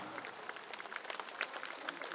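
An audience claps for the Vocile Primăverii school choir from Liceul Teoretic Ion Creangă at a teachers' day cultural event. The applause is faint, distant and steady, with a thin, brief patter throughout.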